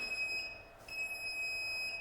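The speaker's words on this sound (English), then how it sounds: "it's beeping" A steady, high-pitched electronic beep tone, fairly faint, briefly cutting out midway before resuming.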